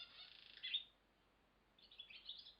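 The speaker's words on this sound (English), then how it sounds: "It's called a barn swallow." A barn swallow calls in short, high twittering chirps, one burst near the start and another cluster toward the end, faint and thin against quiet background.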